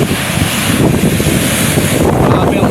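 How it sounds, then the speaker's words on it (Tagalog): Strong ocean waves crash under gusting wind on a dark, stormy day with rain coming, a steady loud roar of surf and wind buffeting the microphone throughout, with no voices. "Grabe ang alon."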